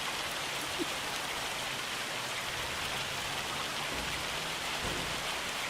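Steady rain pours down in Farming Simulator 25 on a North Dakota farm map, a dense, even hiss of drops on the ground with low rumbling underneath, continuous and fairly loud throughout.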